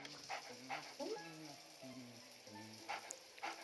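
A ghost dog in the Luigi's Mansion video game gives several short barks and yelps at intervals, set against a quiet game background with soft tonal music notes.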